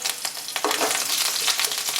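Curry leaves and dried red chillies crackle and sizzle in hot oil over a low flame while cooking vermicelli upuma, a steady close frying hiss with a sharper burst of spitting as the leaves drop in.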